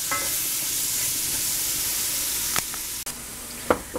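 Mushrooms and onions sizzle steadily in a hot pan with a continuous bright hiss, broken by a few sharp clicks and stirring scrapes near the end; no voices.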